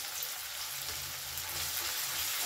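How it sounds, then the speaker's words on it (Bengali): Chopped garlic and onions fry in a pan with a steady, even sizzle that continues unbroken, close and fairly quiet, with no talking. "একটু লাল করে এটাকে ভাজবো"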